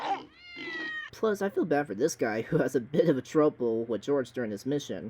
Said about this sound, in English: because of those classic cat noises you hear in various media